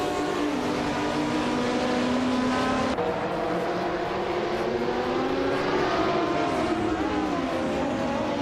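Race cars roar together in a video game race as one overtakes another, a continuous loud engine drone with rising and falling pitch as the cars jostle for position, no voices.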